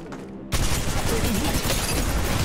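Sudden burst of dense gunfire in the mobile battle royale Apex Legends Mobile, loud and close, rattling on steadily after a brief quieter lead-in with voices in the mix.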